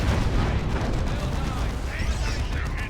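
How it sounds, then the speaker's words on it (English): Vanquisher tank cannon fire rings out in a Dawn of War II: Retribution 3v3 battle, heavy booming shots and explosions layered over continuous gunfire, with a caster talking throughout. "one more cannon shot from the Vanquisher"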